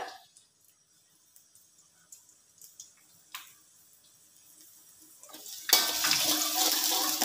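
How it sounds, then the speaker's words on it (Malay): Shallots and garlic hit hot cooking oil with a sudden loud, dense sizzle near the end, following a quiet stretch of small kitchen clinks. "Oke, minyak dah panas. Masukkan bawang merah, bawang putih ya."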